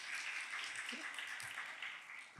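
A marketing forum audience gives a soft, sustained round of applause, scattered hands clapping at a distance and fairly quiet throughout.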